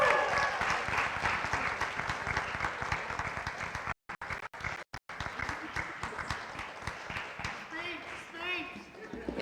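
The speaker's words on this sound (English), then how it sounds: "So if we can give them just a huge round of applause" An audience at a college mental health and wellness symposium claps steadily for keynote speakers, a dense round of applause with a couple of brief dropouts, tapering at the end as a voice begins.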